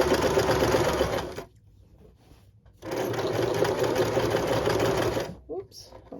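A sewing machine stitching an outside seam in fabric whirs steadily in two long, close runs separated by a quiet pause, while a voice talks softly underneath.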